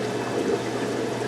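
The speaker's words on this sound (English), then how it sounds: "I usually let some of that water drain off" Water trickles and drains steadily off a lifted algae scrubber screen, a soft continuous splashing heard up close.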